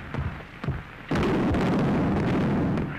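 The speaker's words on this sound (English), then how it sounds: "It's the stupid field artillery." Field artillery firing in a 1931 film scene: two dull thuds, then a loud, close blast that rolls into a sustained rumbling roar.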